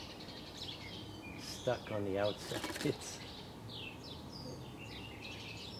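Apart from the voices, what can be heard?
sparrow chirping and kicking its feet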